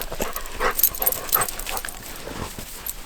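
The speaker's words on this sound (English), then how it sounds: "What kind of rescue dog are you?" A rescue dog whimpers and pants while digging through deep winter snow off trail, with soft high whines and scuffling close by in a steady run of short bursts.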